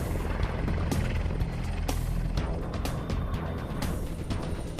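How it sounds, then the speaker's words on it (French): An AgustaWestland helicopter roars steadily nearby, its rotor thudding in a dense low rumble that stays loud throughout. "Un des hélicoptères les plus sophistiqués qui soit vole à son secours."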